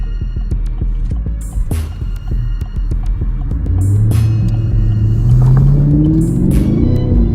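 A Chevrolet Camaro SS engine drops a gear, its deep throbbing hum rising into a louder swelling rev partway through, heard from inside the car with a few sharp clicks and no talk.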